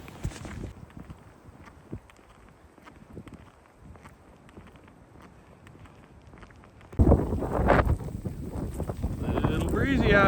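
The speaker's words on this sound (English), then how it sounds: "A little breezy out here." Wind buffets the microphone on a snowy frozen winter lake bed, faint at first and then loud and roaring, with crunchy footsteps and scattered bumps throughout.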